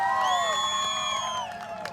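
Crowd cheering, whooping and clapping at a Karavali Kannada festival stage show in Ankola, with shrill whistles held over a dense roar; loud and sustained, fading slightly toward the end.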